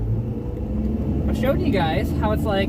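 A Ford Fox-body car with a newly swapped T5 manual transmission drives along, its engine holding a steady low rumble while someone talks over it close to the mic.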